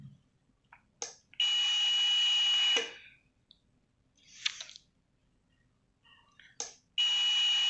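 A homemade speaker protection relay circuit sounds its buzzer in loud, shrill, steady bursts lasting about a second each, separated by quiet gaps and a few sharp clicks, with no talking.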